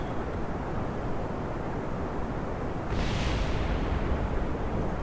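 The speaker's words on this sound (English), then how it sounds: "Some explosions back there. Sounds like my boosters hit the shore." A continuous loud roar of rumbling noise in Kerbal Space Program, with a heavier burst of blasts swelling up midway as rocket boosters crash and explode on a shore, carrying on to the end.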